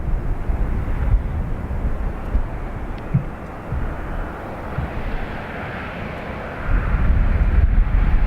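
A Eurowings airliner, flight LH2517 to Munich, takes off at Dublin Airport with a loud, broad, steady engine roar that swells near the end, heard from a distance with some wind noise.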